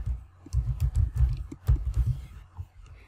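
Keys tapped on a computer keyboard in quick irregular bursts, close and fairly soft, with brief pauses between runs of keystrokes while setting a Windows environment variable; no voices.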